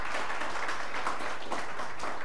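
An audience applauds an Anatolian folk orchestra with steady, dense clapping that carries through evenly at a moderate distance and holds without a break for its whole length.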